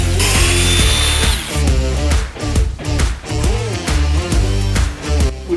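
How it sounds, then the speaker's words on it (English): A power drill whirs in repeated bursts, its pitch rising and falling as it bores into material, loud and close. "Drill some holes and then slot it on."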